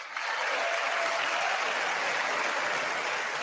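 Applause fills the chamber at the State of the Union address, a broad, even, sustained clapping from a large crowd heard at some distance, steady and without talk over it.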